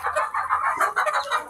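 Chickens, gamecocks and a hen clucking and calling close by in a steady, overlapping stream of short bursts, with no talk.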